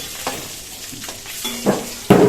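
Fried eggs are eased one by one out of a frying pan into a bowl, with a spatula scraping and tapping against the pan over a close, continuous sizzle that grows louder at the end.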